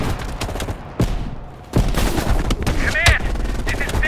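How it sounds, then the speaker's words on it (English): Gunfire from a Call of Duty: Black Ops Cold War battle, with sharp, loud shots and bursts, including a heavy blast near the start, repeating over a continuous din of combat. "You readied your sniper rifle to assist."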